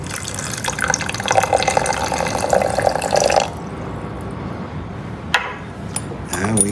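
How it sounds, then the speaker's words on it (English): Water poured from a tap onto fake snow in a children's science experiment, a steady splashing stream for several seconds, then stopping, followed by a few scattered drips and small clatters. "And then we add the water to the snow"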